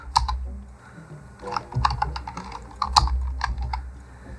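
Someone types the words New York on a computer keyboard, giving a close run of light, uneven key clicks with a few louder taps, no voices.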